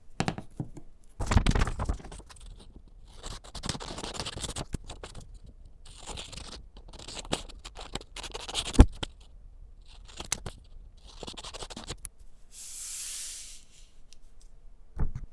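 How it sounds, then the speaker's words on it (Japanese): Scissors snip a hydrangea pattern out of tri-folded origami paper: irregular close snips and rustling paper handling spread over about fifteen seconds, with brief pauses between cuts and no talking. "アジサイの図柄を切り抜きます。"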